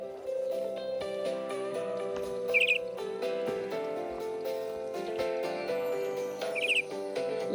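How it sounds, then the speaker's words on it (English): Two quick, high cartoon birdsong chirps, each a brief trill, ring out over a continuous melodic music backing, one near the start and one near the end. "Little bird, I have heard you sing so sweetly."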